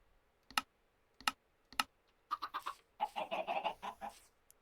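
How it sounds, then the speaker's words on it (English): Chickens on a farm in a video game give three sharp separate clucks, then a busy run of overlapping clucking, fairly faint and without talk. "Boy, those chickens are noisy."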